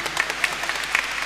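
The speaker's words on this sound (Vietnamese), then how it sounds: "Một tràng pháo tay nữa, giỏi lắm." A church congregation at a Catholic parish Mass bursts into brief, lively applause, a quick patter of clapping hands that stays dense for just over a second.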